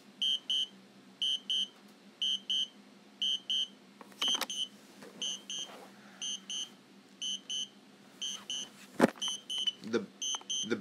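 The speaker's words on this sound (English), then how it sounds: "The beeping, I wish I could figure out a way to stop the beeping." A repeating electronic beep pattern chirps in steady short bursts from a DJI Spark drone controller, fairly faint, with a few rustles and clicks nearby.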